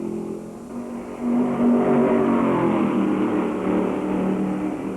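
A 1965 NASCAR stock car races at Darlington Raceway, with a loud, continuous engine roar that swells as it accelerates, then holds a strained, rising drone through the corner.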